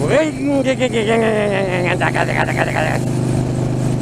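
A voice mimics a boat outboard motor being fired up, sputtering and revving in rising, wavering bursts for about three seconds before it drops to a low background hum.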